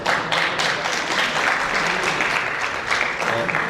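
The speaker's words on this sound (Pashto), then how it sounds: "په دې اخر کې دا چکچکې لږې راتودې کوي" Audience applause at a Pashto poetry gathering (mushaira) held in Germany, steady dense clapping throughout, loud and close, with no voices standing out.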